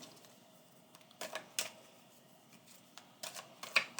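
Oracle cards shuffled by hand, a faint series of soft papery riffles and taps in short bursts, close and quiet, with no talk.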